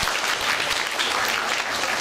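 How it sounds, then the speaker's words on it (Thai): Dense, loud clapping from a crowd at a Mother's Day event at a Thai Buddhist temple, continuous through the short stretch with no pauses. "ขอเสียงปรบมือให้กับ"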